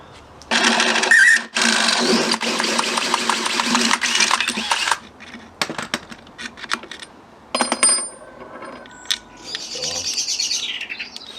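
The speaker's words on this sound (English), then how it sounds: "I'm going to drill to this drill bit size, where I think is an 8mm bit, and obviously through the wood" An electric drill with an 8mm bit bores through wood, whining steadily in two close bursts, followed by quieter handling clatter and a few birds chirping in the background.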